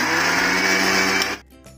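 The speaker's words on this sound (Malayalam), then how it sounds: "ആദ്യം തന്നെ മിക്സിയുടെ ജാറെടുത്ത് ഈ ചീരന്തല ഒന്ന് അരച്ചെടുക്കാം." A kitchen mixer grinder whirs loudly as it grinds spinach leaves in its jar, a steady high motor drone that cuts off abruptly near the end, leaving a faint rattle.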